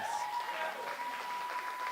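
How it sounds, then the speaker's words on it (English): An audience at a gathering claps and cheers in a continuous, fairly loud wash of applause, with a faint steady tone running underneath. "So they're cheering because they believe in you"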